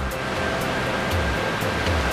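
Koban waterfall in North Ossetia, set among overhanging cliffs, roars as a steady, close, full-band rush of falling water with no voices over it.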